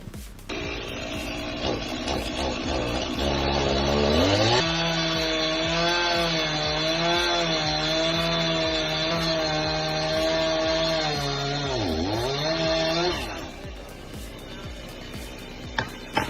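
A chainsaw worked one-handed from a ladder near power lines runs loud and steady for about thirteen seconds, its engine pitch sagging as it bites into wood, then drops away.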